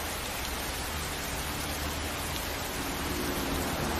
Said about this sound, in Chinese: 现在下雨了，咱们先在这儿躲一会儿